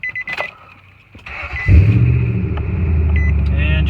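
A car engine cranks briefly and catches with a burst, then settles into a steady idle rumble, started with a NEXPOW Q10S 1500A jump starter pack; faint clicks and handling noises come first.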